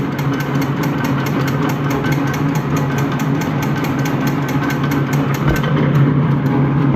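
A Fosdick radial drill runs under power down feed at a slow feed rate, producing a steady, loud mechanical drone and hum that holds without a break throughout.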